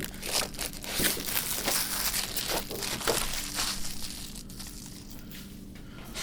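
Protective film peeled off a clear plastic cover sheet for a geology kit board, giving a steady close crinkling and crackling with a few sharper tearing snaps along the way.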